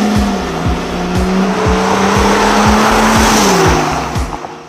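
A 4x4 vehicle with about 295,000 km on it, engine revving hard through repeated gear shifts, loud and close, with a rising whine between shift drops and no talk.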